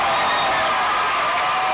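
Crowd noise at a high school boys basketball game in Davenport, Iowa, with fans roaring steadily behind West as they build a lead; a continuous, dense cheer fills the whole moment with no clear breaks.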